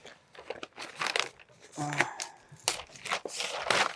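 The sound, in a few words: synthetic roofing underlayment being torn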